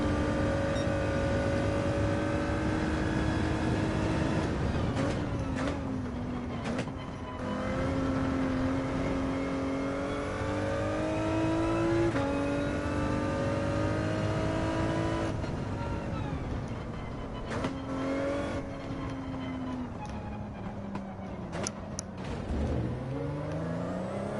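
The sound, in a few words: race car engines in Gran Turismo 7 video game race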